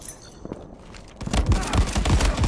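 M1 Garand gunfire in the Free Fire video game: quiet background at first, then a rapid run of loud, punchy shots and thumps fills the second half.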